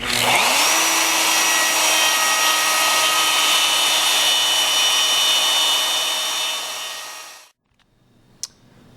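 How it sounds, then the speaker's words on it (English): A handheld router cuts holes into a wood template, running as a loud, steady whine for about seven seconds before it winds down to silence, with one faint click afterward. "The holes I've drilled here are just so I can lay the router right in them and start cutting"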